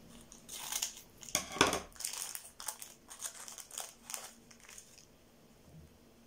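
Gold adhesive tape handled close up while being wrapped onto a small ice-fishing jig, giving crinkly, crackling rustles in irregular bursts with no talking.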